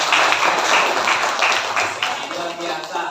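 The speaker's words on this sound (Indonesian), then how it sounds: "Berikan tepuk tangan dulu" Students in a classroom clap together, a dense, lively burst of applause that stays loud and steady before slowly thinning toward the end.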